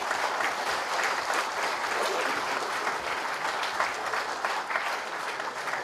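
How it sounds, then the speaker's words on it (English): Sustained applause from a memorial lecture audience, an even, continuous wash of clapping hands throughout with no break or fade. "Please give a round of applause for the director."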